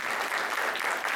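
An audience claps steadily after a lecture at an academic conference session, a brief, even wash of applause at moderate volume with no talking.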